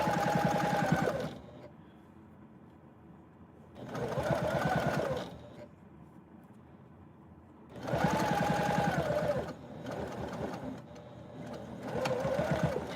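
A sewing machine stitches binding onto a tote bag in four bursts of rapid, close mechanical whirring, separated by short quiet pauses with faint handling.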